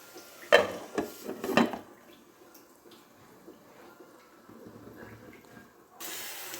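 Bitter gourd pieces stir-fried in a pan, a few sharp scraping stirs up front followed by a soft continuous sizzle, close by, with no talking.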